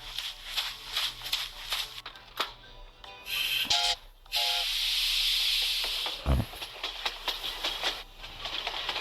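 A steam locomotive in a Humpty train video game lets out a loud, sustained hiss of steam in the middle, surrounded by cartoon game effects, chimes and clanks, with a deep thump shortly after.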